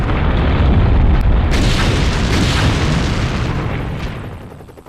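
A nuclear test detonation in the Nevada desert gives a loud, deep boom that rolls into a sustained, heavy rumble for several seconds before slowly fading.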